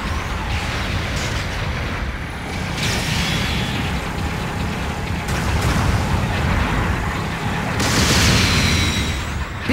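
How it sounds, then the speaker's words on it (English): Long-range supporting artillery fire in a video game, a continuous rumbling barrage of booms and explosions, dense and loud throughout with a few sharper blasts rising out of the roar. "Long-range supporting fire incoming!"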